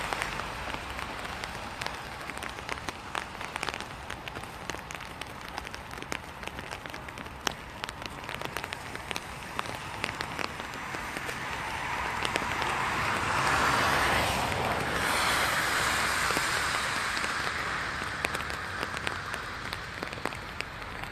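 Steady rain falls on a street in Seoul, South Korea, a dense wash of patter and spatter that swells louder around the middle, with distant traffic beneath and no talking.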